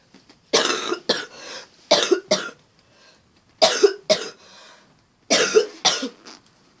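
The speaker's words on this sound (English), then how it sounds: "I've actually got a bad cough for some reason." Several harsh coughs in clusters of two or three, loud and close, separated by short silences.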